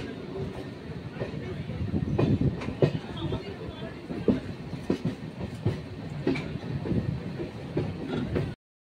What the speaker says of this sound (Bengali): আমাদের ট্রেন তার নির্দিষ্ট সময়ের মধ্যে ছেড়ে দিল। এখন ঘড়িতে 9:45 মশাগ্রাম ছাড়লো।